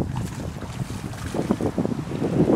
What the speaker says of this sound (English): we're fishing out here, really, really windy